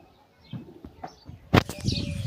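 Pigeons perched up on top of their coop boxes make soft shuffles and coos, then a sudden loud burst of wing flapping up close, followed by rustling movement.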